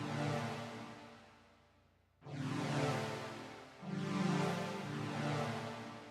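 A soft, warm synth pad swells in and sustains, fades briefly, then returns with two more gentle chord swells, quiet and smooth with no talking.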